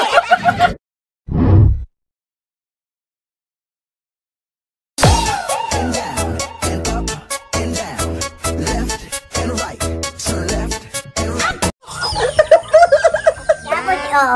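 Chickens cluck and squawk repeatedly in short bursts, close and fairly loud, with people talking in between and a pause of near silence early on.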